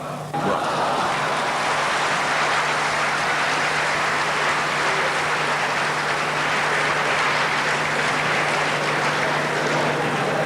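An audience at an Urdu poetry mushaira breaks into loud, sustained applause, a dense, steady wash of clapping that starts abruptly and fills the whole stretch without letting up.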